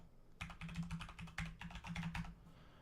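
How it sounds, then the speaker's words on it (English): Someone typing a username and password on a computer keyboard: a quick, close run of crisp key clicks with uneven rhythm for about two seconds, then stopping. "So I'm going to go ahead and type that in right now."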